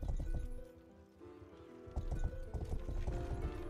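Horse hooves clop in a steady trotting rhythm, loud and close, as a knight's horse in the medieval video game Rustler, alongside game-style background music with a short lull midway.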